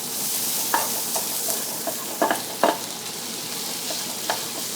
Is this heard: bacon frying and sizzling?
yes